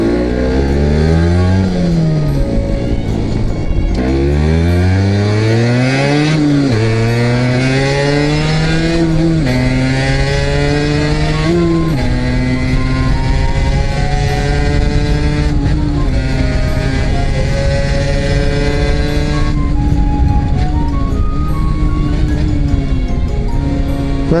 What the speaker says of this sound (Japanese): こうやってギアをね、エンジンブレーキで落としていってもいいです。